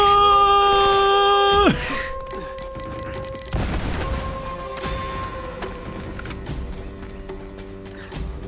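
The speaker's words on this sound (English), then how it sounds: "that's how those grenades sound" A grenade explosion in Uncharted: Drake's Fortune lands as one broadband blast midway, after sustained game tones cut off, then trails into a rumbling decay with faint crackle and a lingering tone.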